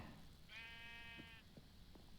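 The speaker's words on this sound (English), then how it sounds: "Baby sheep." A baby sheep in the video game Mesozoia gives one faint, steady bleat of about a second over low ambient noise, followed by a few quiet soft knocks.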